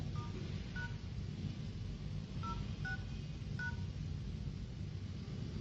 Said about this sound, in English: We click phone. Then we dial.